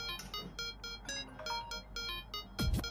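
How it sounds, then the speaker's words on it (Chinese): An incoming phone call rings with a repeating pattern of bright electronic ringtone notes, close and steady for about three seconds, ending with a short whooshing sweep. "来电话了"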